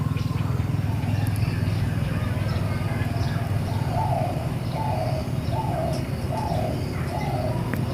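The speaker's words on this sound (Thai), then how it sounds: "ได้ยินเสียงนก เสียงธรรมชาติไหมครับ" Soft cooing calls from a dove or pigeon repeat several times at a steady pace, with a few faint chirps over a constant low outdoor rumble in a Thai garden.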